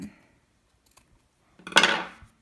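Scissors trimming fabric during sewing, a brief burst of close crisp snipping after a quiet stretch, with no speech.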